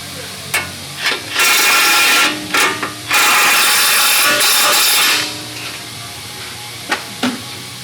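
A ratchet tightening a bolt during a strut and shock install on a Ford F150, bursts of fast clicking ratcheting, some short and two long sustained runs, close and loud.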